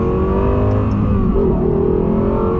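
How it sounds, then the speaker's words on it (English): A Lexus LFA engine revs steadily at about quarter throttle, a moderate pitch, loud and close, with a smooth continuous drone and no voices. "that's like quarter throttle and it still sounds absolutely incredible"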